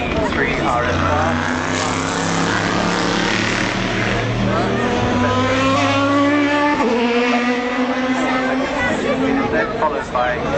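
Porsche 997 GT3 RSR race car passing at a racing event, its loud engine note rising and shifting pitch through gear changes, with a steady, continuous roar and crowd babble underneath.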